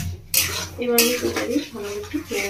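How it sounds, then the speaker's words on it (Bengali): A spoon scraping and clanking in a metal pan while raw mango chutney with sugar is stirred, several sharp close knocks and scrapes in quick succession with no speech. "এবার আমি ভালো একটু নেড়ে নেবো"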